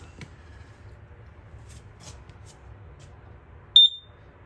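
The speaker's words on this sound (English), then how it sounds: "That'll be the sound you'll hear if it has LP leaking." A single short, loud electronic beep from a propane leak detector rings out near the end, cutting through a low background hum in an otherwise quiet travel trailer.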